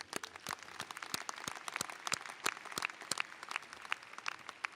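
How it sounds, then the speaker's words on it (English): A large audience claps at a university commencement in an arena, a dense round of applause with sharp individual claps standing out, steady and fairly distant throughout. "Their round of applause, please"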